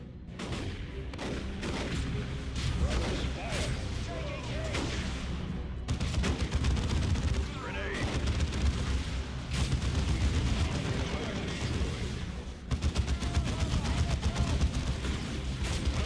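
Battle gunfire in Warhammer 40,000: Dawn of War 2: Chaos Rising, dense continuous volleys of shots and booms with heavy low rumble, unit voice lines mixed under the din.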